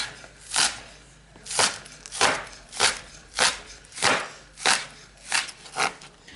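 A knife chopping green onion on a board, about ten sharp, evenly spaced cuts in a steady rhythm, close and distinct with no talking.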